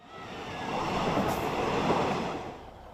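A train carries children on a ride to the zoo, and its steady rumble swells and then eases. Railcar noise fills the cabin nearby with a faint squeal near the midpoint.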